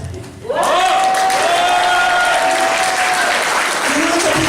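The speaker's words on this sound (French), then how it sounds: "Il y en a qui n'applaudissent pas, là. Je l'entends." A theatre crowd breaks into loud, sustained applause for a comedian on stage, the clapping surging in after a brief quiet moment and holding strong, with a sustained sung or shouted tone riding over it.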